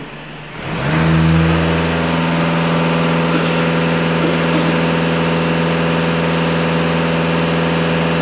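A Skoda Superb 2.0 TDI diesel engine rises quickly from idle to a held, raised rev and drones steadily and loudly up close with no talk.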